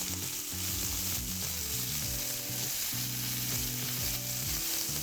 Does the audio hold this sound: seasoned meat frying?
yes